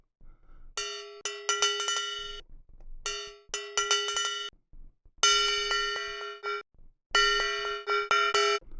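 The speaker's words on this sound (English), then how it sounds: "So this is the little gong" A small gong sample on a software synthesizer rings out in four separate bursts of bright metallic strikes. The hits come in quick clusters with short decaying tails and silent gaps between, clean and close, with no voices.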